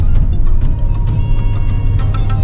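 Low, steady rumble of a Nissan car descending a steep downhill mountain road in B gear with motor regenerative braking, a continuous drone with faint ticking and rattles on top, close and loud with no talk.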